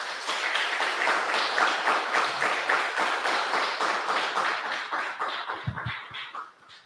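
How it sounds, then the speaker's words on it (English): A crowd gives a big round of applause for a guest at a startup founders' event, dense steady clapping filling the room before tapering off near the end. "a big round of applause"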